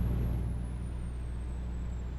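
Truck in Euro Truck Simulator 2 braking, a steady low engine and road rumble with a thin high whine slowly falling in pitch, no voices.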